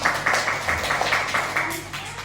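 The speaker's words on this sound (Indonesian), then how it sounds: "Terus beri tepuk tangan untuk Kevin." A classroom of students claps for a classmate, a steady run of fairly even claps at moderate volume, filling the room without voices.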